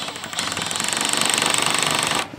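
A power drill drives a screw into timber batten on a wall, a rapid rattling buzz that ramps up for about two seconds at close range before cutting off abruptly.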